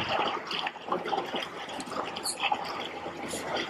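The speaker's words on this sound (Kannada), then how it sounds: "ಅಳಸಂದಿ ಹಾಕೊಂಡು ಈಗ ನೆನ್ಸ್ಕೊತಾ ಇದ್ದಾರೆ ನೀರು ಹಾಕೊಂಡು" Water is poured over about 15 kg of black-eyed peas set to soak in a large wedding-style kitchen batch; a moderate, uneven gush and splash with small clatters throughout.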